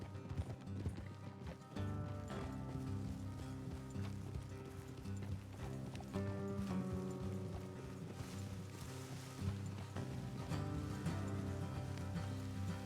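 Horses' hooves clip-clop at a running pace in Red Dead Redemption 2, under a steady layer of game music, with mechanical clanking mixed in.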